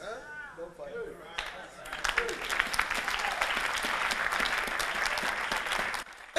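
A congregation claps during a sermon. A preacher's voice is heard briefly before the room breaks into dense, sustained applause that runs for several seconds and then stops abruptly.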